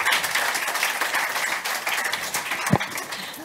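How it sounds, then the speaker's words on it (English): An audience at a health conference claps for a panel, dense broadband applause that holds steady throughout and thins slightly toward the end, with a few brief voices mixed in. "So big round of applause for our fantastic panel"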